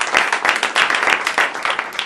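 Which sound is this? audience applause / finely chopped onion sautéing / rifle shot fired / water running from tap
audience applause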